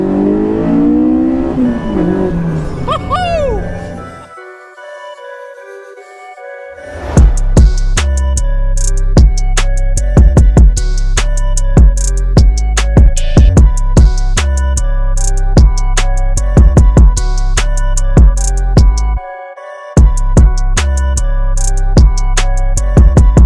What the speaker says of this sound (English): And oh my god, does it rev.